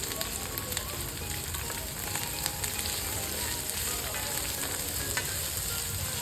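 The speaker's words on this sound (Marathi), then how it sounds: "थोडासा फ्लावर घेतलेला आहे। हे आपल्याला तेलात चांगले परतून घ्यायचे आहेत।" Cauliflower and chopped beans sauté in oil for a veg biryani, giving a continuous dense crackling sizzle at an even level, close up with no pauses.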